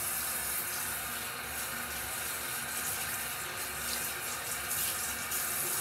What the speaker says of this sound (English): I'm gonna use hot water to wash my face.